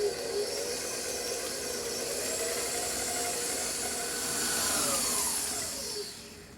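A stand mixer's paddle churns gluten-free cookie dough mixed with lemon juice, making a steady, fairly loud motor whir with a faint rising whine and no voices.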